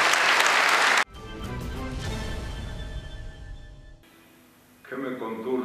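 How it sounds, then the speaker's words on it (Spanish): Applause from the crowd at a senior citizens' party bursts out loud for about a second after a tango song, then cuts to quieter music and a speaking voice, with a brief return of noise near the end. "Fuerte, fuerte esos aplausos."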